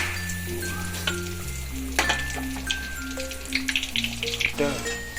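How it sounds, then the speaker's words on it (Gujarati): Oil sizzles and crackles steadily as Manchurian balls deep-fry, with occasional stirring clinks and a low hum running underneath. "તો એવી રીતે તળવાના છે"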